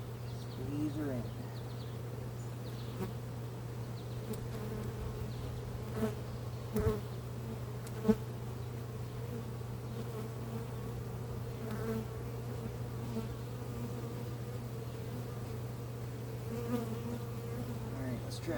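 A steady, close drone of many honeybees buzzing continuously around a hive, with a low constant hum and occasional louder passes.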